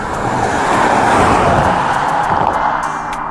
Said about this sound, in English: that car must have been doing about 70 miles an hour